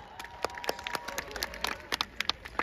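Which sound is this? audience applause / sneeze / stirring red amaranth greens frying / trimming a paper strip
audience applause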